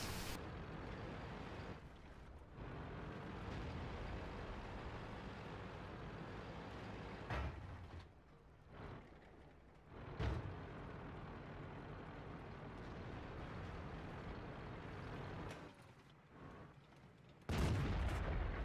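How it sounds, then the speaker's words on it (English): Enemy tanks blind firing in World of Tanks on the Lakeville map, with dull distant cannon booms and rumbling engine noise across a steady battle ambience, a few sharper louder blasts standing out near the end. "As you can hear, they are currently blind firing my position"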